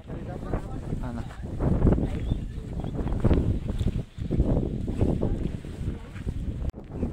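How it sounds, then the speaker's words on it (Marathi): Strong wind blowing across a foggy mountain at Naneghat, buffeting the microphone in loud, uneven gusts that surge and dip throughout. "लय वारा आहे"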